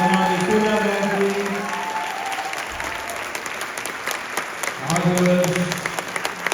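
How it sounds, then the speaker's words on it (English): A concert audience applauds warmly after a devotional classical Indian music recital, sustained clapping running for several seconds, with a voice speaking over it at the start and the end. "Very big round of applause."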